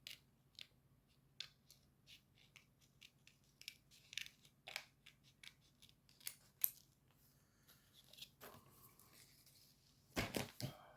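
Scissors snipping through paper scrapbook pieces, a long run of quick, close, crisp cuts with short pauses, ending in a louder burst of rustling near the end.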